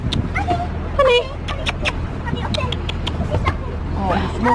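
A dog whimpers and yips in short, excited bursts at a doggy exercise area by the ferry port for Calais, close and loud over low background noise.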